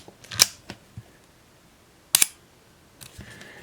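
A Rollei 35 film camera's shutter fires at 1/15 second, its sharp mechanical snaps standing out over small handling clicks, close up and without talking.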